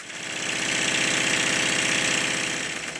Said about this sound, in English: It's running in quite nicely now.